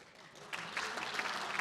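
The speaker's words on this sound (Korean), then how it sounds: "박수 치지 마세요." An audience in South Korea's National Assembly bursts into applause after a short quiet pause, with dense clapping from many hands continuing steadily to the end.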